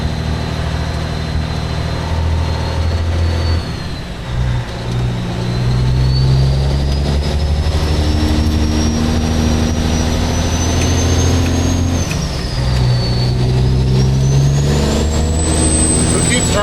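A heavy haul truck carrying a steel coil in Alberta roars loudly up close, its diesel engine revving and dropping as the driver shifts through low gears, with a rising whine above the rumble.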